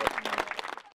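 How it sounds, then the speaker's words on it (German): A short burst of applause at a regional news event: a handful of claps, distinct and fairly close, that thin out and cut to silence within a second. "Applaus"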